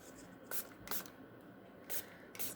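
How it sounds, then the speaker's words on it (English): Short hissing spray bursts misted lightly over a resin art piece, four brief puffs spaced unevenly against a quiet background. "Give that a light spray."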